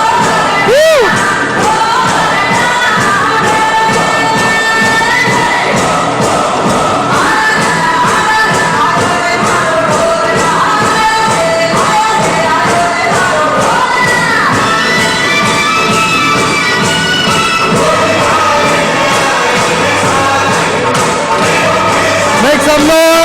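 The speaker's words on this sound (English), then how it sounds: "Louder claps, come on, everyone." School assembly crowd of children shouting and cheering loudly and continuously, with whoops and scattered clapping blended into the roar; voices rise and fall throughout.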